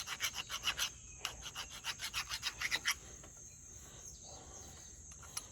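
Someone hand-files the radiused curves on a steel tomahawk head, producing a quick rhythmic run of about a dozen close rasping strokes, then a pause and a few softer scrapes. No one talks.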